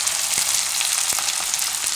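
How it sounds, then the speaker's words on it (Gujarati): Asafoetida sizzles in hot oil with a dense, steady hiss and a few faint clicks of stirring, close and continuous throughout. "હવે આમાં હિંગ નાખી દઈશું"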